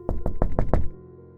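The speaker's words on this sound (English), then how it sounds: "I heard a noise, a faint tapping sound, like someone knocking gently on glass." Knuckles knock gently on a glass window, five quick, evenly spaced taps, close and fairly crisp, followed by quiet.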